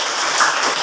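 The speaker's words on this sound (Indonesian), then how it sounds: "Tepuk tangan untuk Firman." Brief burst of classmates clapping for a student in a classroom, a steady wash of hand claps lasting under a second.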